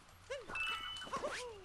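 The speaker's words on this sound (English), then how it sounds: "the dog doesn't do anything unless he's on screen" A dog in Super Mario Odyssey gives a couple of short, high yips and whimpers at moderate volume, with a bright synthetic tone and game effects around it.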